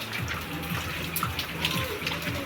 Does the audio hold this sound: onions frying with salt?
no